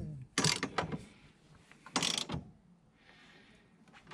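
A ratchet tightens a part during installation on a BMW E46 drift car, giving several sharp bursts of rapid clicking separated by pauses, close and fairly loud with no talking.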